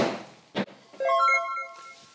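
A golf ball struck cleanly with a wedge from about 118 to 121 meters gives one sharp, near impact, followed by a faint ringing tone that fades over a second or so.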